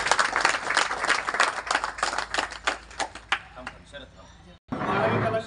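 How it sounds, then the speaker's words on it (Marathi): Guests at a school felicitation ceremony for tenth-standard students clap in a brisk, moderately loud round of applause that tapers off, with a voice talking over it and a brief pause before room noise resumes. "टाळ्या वाजवा"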